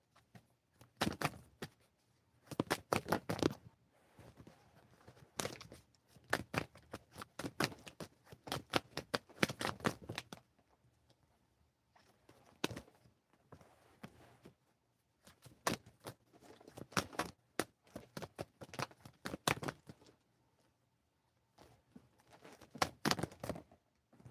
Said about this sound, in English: Sorry, I'm trying to shuffle.